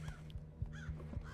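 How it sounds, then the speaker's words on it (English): A bird in the video game Thief caws in a quick series of harsh, rhythmic calls, fairly faint and alone. "Shut up, bird."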